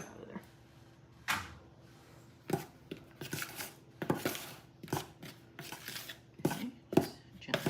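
Flour, salt and baking soda being gently stirred together in a bowl, heard as a series of soft, irregular scraping and tapping strokes, close and quiet, with no talking.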